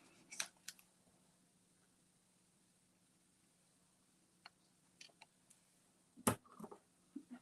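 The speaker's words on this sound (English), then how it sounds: "I'm going to cut off that little top" Scissors snip the small top off a paper tag, a few faint, close clicks and crisp cuts scattered over a quiet background, with one sharper cut near the end.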